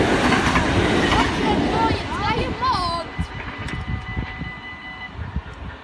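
A train passing by at Nieuwstadt station in July 2019: a loud rumbling approach with a brief high squeal or horn-like tone, then steady clattering as it fades, with people talking nearby.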